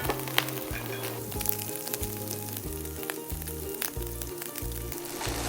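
Breakfast pork sausage sizzles steadily in a hot pan, a dense continuous crackle and spatter with a soft rhythmic low thumping underneath, close and fairly loud with no talking.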